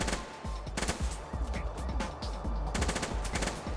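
Minigun firing in the game Hordelicious, a loud continuous rapid stream of shots with dense rhythmic bursts throughout and a few heavier impacts layered in.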